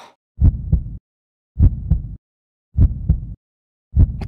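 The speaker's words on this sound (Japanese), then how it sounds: "魔王の心臓の音だ。" A demon king's heartbeat from the PC game Farland Symphony: four slow, evenly spaced double thumps, deep and close, separated by near silence.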